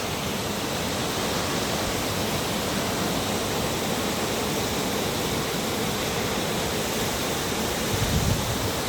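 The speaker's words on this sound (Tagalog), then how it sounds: "ang ganda ng falls" A waterfall beside a wet mountain road in Bontoc gives off a steady, dense hiss of rushing water, constant and fairly close, with no voices.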